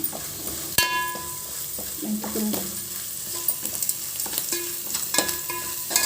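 Oil frying in a pan while being stirred, for a dry curry of spinach, fenugreek leaves and red lentils. A steady sizzle runs throughout, with intermittent scraping and clinking from the utensil against the pan.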